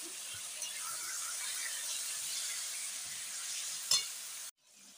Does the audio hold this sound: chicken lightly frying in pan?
yes